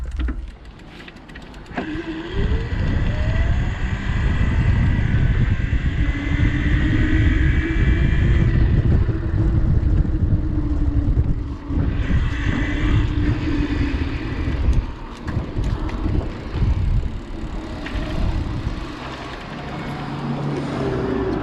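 Spark RX electric bike riding under throttle, a motor whine rising in pitch as it accelerates over a steady rumble of tires and wind, continuous and close, then easing off toward the end.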